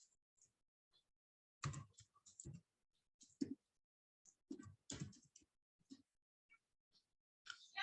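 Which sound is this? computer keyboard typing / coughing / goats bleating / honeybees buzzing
computer keyboard typing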